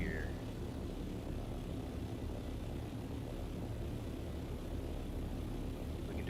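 A flying craft in Dune: Awakening holds a steady, dense engine roar, even in level throughout and close, with no talk over it.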